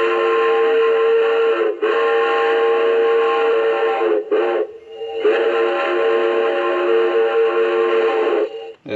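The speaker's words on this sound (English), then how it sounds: "that's your crossing whistle" A model train sound system plays a steam-style crossing whistle: long sustained tonal blasts broken by brief gaps, loud and close, in a repeating pattern.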